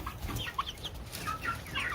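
Farm chickens cluck in short, quiet bursts, several soft calls overlapping at close range on a windy day in Pennsylvania, with no talking.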